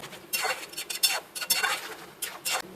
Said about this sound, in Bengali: এবার এটাকে আমি একটু হালকা হাতে নেড়ে দেবো।